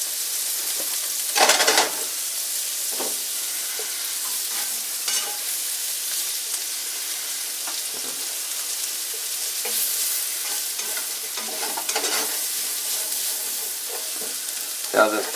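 Mushrooms fry in a big dollop of unsalted butter in a pan, giving a steady high sizzle broken by repeated bursts of louder crackle and spatter as the pan is stirred.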